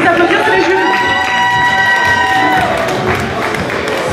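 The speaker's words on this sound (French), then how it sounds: "On peut les applaudir, c'est les jurys." A cosplay and gaming event crowd applauds and cheers for the jury, a loud, sustained wash of clapping and excited voices with some shouting throughout.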